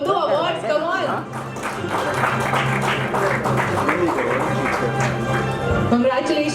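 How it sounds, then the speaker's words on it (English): Audience at a hotel award ceremony giving a round of applause, steady moderate clapping heard under ongoing talk from the stage. "A huge round of applause."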